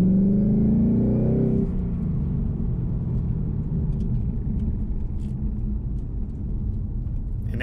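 Ford Mustang S550 (2015+) in normal exhaust mode with the factory sound tube fitted: a deep engine rev climbing and falling, then a steady low rumble of the engine, heard loudly without talk.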